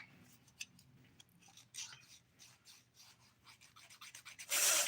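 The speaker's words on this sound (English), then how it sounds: "100 by 180 grit file that I'm using here." Dip powder acrylic nails being filed with a 100/180 grit nail file, a soft scratchy rubbing in short irregular strokes, close and fairly quiet, building to a louder burst of filing at the end, no talking.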